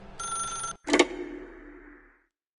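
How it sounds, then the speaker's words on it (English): A telephone bell rings in The Stanley Parable video game, one short metallic ring burst, then a sharp clatter and a fading reverberant tail into silence. "Now pick up the phone, said the bucket."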